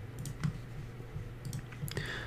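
A computer mouse clicks on website buttons, with several sharp, quiet clicks spaced irregularly over a couple of seconds against a low background hum.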